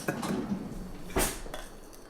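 Icing is spread over lemon bread with a utensil, making a few close scrapes and soft clinks of metal against a dish, with no voices.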